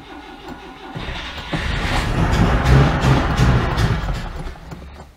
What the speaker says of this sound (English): Might take a bit of dribbling petrol down the carburettor to actually get this thing to fire up.